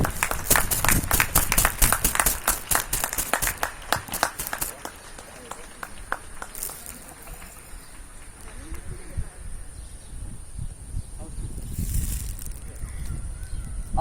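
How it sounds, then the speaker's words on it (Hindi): Audience applause at an Independence Day flag hoisting ceremony, dense clapping for the first few seconds that thins out, then scattered claps and murmuring crowd noise. "एक बार फिर से जोरदार ताली बजा के इनका स्वागत करें प्लीज।"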